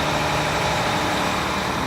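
The diesel engine of a 2015 truck with DEF idles steadily up close, a continuous low rumbling drone with no talking.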